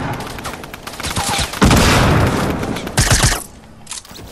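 Sniper gunfire in a Fortnite match crackles in a dense burst of sharp shots, loudest in the middle and ending with a few scattered reports, with no talking.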